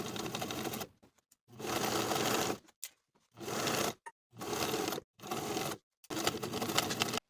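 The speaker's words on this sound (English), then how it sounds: "Now I'll sew that unpressed raw edge of the cuff to the bottom of the sleeve from one side of the placket all the way to the" A sewing machine stitches a cuff's raw edge to the bottom of a sleeve with a 3/8 inch seam allowance, running in bursts of steady rapid needle chatter broken by short pauses between runs.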